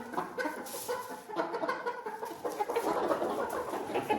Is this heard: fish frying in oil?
no